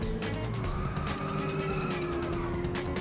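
A drifting car engine in the racing game Inertial Drift holds a steady, loud droning tone with sustained tire squeal layered over it, continuous throughout with no speech.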